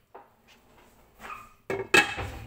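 A metal lid set down over a pan of pineapple roasting with a little water, giving a couple of close, sharp clanks after some quieter kitchen handling.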